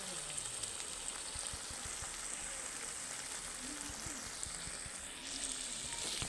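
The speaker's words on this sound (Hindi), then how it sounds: "मसाला डाल करके भून रहे हैं इसको।" Chicken frying with spices in a pan gives a faint, continuous crackling sizzle with small popping bursts and a few light stirring taps, heard alone.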